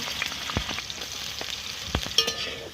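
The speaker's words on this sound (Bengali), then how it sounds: "এখানে গাজরগুলো ভেজে নেব" Carrots fry in hot oil with a steady, close sizzle, broken by a few sharp knocks and scrapes of a stirring utensil.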